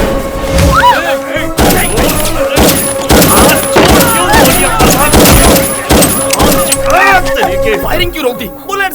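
Gunfire rings out in a Hindi-dubbed action film scene. Rapid loud bursts of shots and thuds run nearly continuously, mixed with music and people shouting over them.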